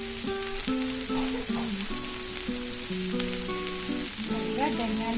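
Ivy gourd (tindora) frying in a pan with turmeric, a steady dense sizzle lasting throughout, close and fairly loud, with a faint voice talking over it in places.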